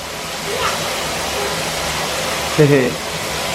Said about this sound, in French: On remplit le bain à la douche.